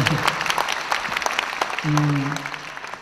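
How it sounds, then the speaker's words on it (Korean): Lecture audience applauding at a university talk, a burst of clapping mixed with a speaking voice and a short sustained tone near the end. "공감하실 때 박수입니다."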